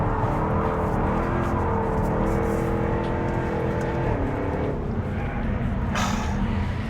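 A Jaguar F-type R coupe engine revs hard and accelerates in third gear, a loud sustained rising roar close by, ending in a sharp hissing burst near the end.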